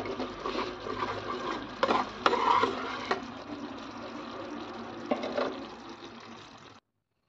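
A sweet mixture for laddoos is stirred by hand in a pan, giving a soft continuous scraping and sloshing with a few sharper clinks. It stays close and fairly quiet, then stops near the end.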